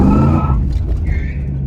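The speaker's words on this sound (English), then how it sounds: "let's just see if she screeches the tire a little bit." A 1985 Pontiac Trans Am chirps its tire in a driveway, a short loud engine-and-rubber squeal up front that cuts off quickly, followed by a faint higher tone under idle rumble.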